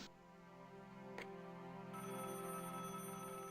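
A telephone rings steadily with a continuous electronic tone, fairly faint and alone, with no one speaking.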